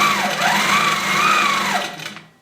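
A Coronet quilting machine stitches in a fast, steady buzzing whir that rises and falls in pitch as it moves, loud and close, then stops abruptly.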